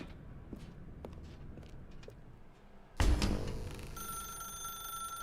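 A telephone rings inside a dark room in The Stanley Parable video game; after a few soft footstep-like taps, a loud electronic ringing bursts in and then holds as a sustained tonal ring, with no talking.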